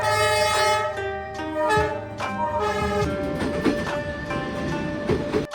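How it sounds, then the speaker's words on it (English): A big train rumbles slowly past at close range through a narrow alley in Hanoi, with steady wheel clatter, metallic squeals and a continuous mechanical drone filling the space. "this giant train that fits through this tiny little alley"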